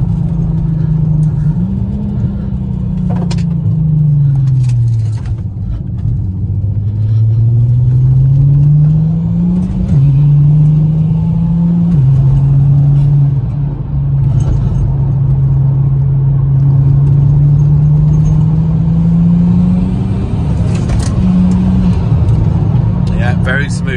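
A Nissan Skyline R32 turbo engine drones and rises in pitch as it accelerates through gears, with brief shifts and steady road rumble from inside the cabin; the car has a warped exhaust manifold that had been leaking.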